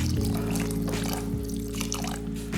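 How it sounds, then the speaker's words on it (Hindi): Water poured into tomato soup simmering in a pot on high heat, a steady splashing pour lasting a couple of seconds over a low, constant humming drone. "एटलीस्ट 200 मिलीलीटर से 250 मिलीलीटर पानी डालेंगे"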